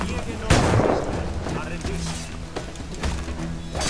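Bombs and cannon fire in Assassin's Creed IV Black Flag, a loud booming blast followed by further thumping shots and rumbles, with someone talking over the game action.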